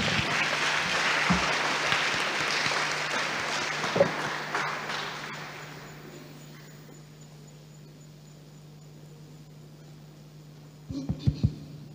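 Audience applause fills a hall at a diploma ceremony for a university's first class of professional nursing graduates. The clapping is steady and moderately loud for about five seconds, then fades into quiet room tone, followed by a few thumps near the end.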